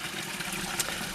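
Water flows through a narrow gap along a stream bank where the passage has been realigned, giving a steady close trickling rush with no talking.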